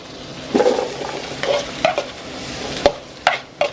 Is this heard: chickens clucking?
no